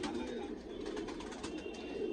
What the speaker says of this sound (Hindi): ये जोड़ वाले कबूतर